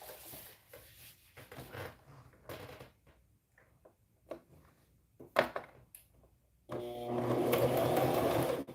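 A sewing machine runs steadily near and loud, stitching close to the unfolded edge of fabric for preemie shorts, following a stretch of quieter clicks and handling sounds.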